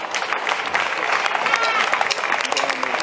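Applause and cheering from a concert crowd at a live show in Ávila, with dense clapping and whoops, and a voice speaking over the noise.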